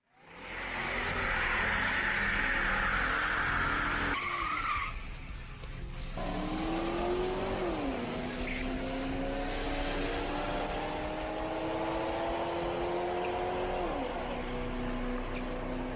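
A 2002 Ford Crown Victoria with a 2-valve engine driving hard, starting with a loud burst of tire squeal, then a rising engine note that climbs steadily through the gears with brief shift dips.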